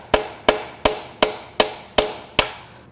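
Hammer blows on a seized, rusted Powerstroke diesel engine part, seven sharp metallic strikes at an even, steady rhythm, loud and close, each ringing briefly before the next.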